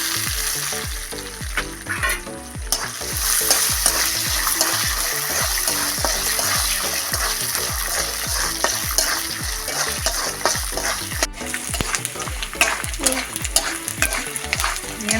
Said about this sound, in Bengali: প্রথমে বাদামটা ভেজে নিচ্ছি দেখুন বাদামে দিয়ে দেবো লবণ